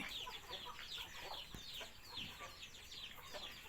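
Clucking from backyard chickens raised at a rural Thai home rises and falls in scattered bursts, faint and somewhat distant, with a light thump partway through.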